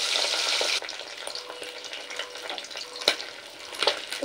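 Bata fish frying in hot oil gives a dense, close crackling hiss that drops slightly in level after the first second, with occasional pops and spatters throughout.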